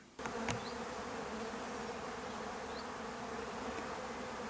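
A dense, steady buzzing of many honey bees around a hive frame fills the scene, close and continuous, with no voices.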